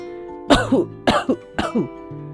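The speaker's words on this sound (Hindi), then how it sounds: "उन्होंने अपना गला साफ किया और थोड़ा सा खांसी भी।" Three short coughs, each trailing into a throaty clearing sound, evenly spaced and close, with no talking.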